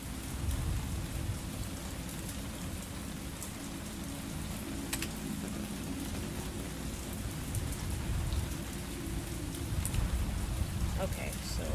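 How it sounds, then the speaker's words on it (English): A video game rainstorm roars with a steady, loud wash of heavy rainfall that continues unbroken throughout, swelling slightly near the end. "Why does the rain still sound so loud?"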